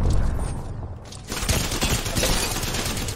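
Bursts of automatic gunfire from the shooter game Apex Legends, a dense rattle of overlapping shots that dips briefly and then returns loud and continuous.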